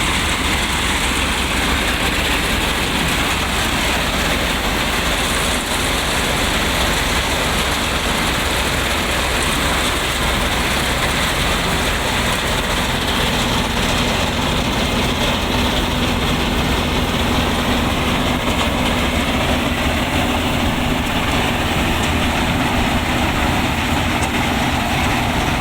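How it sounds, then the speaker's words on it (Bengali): A combine harvester cutting rice paddy in a field, a loud continuous engine drone and rumble of machinery close by, unbroken for the whole stretch with no talk. "সবাই চেষ্টা করবেন এরকম মেশিন দিয়ে ধান কাটানো।"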